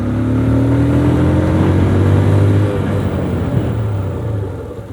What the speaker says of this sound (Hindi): तो भाई इस 50 की स्पीड में हम आगे वाली ब्रेक टेस्ट करते हैं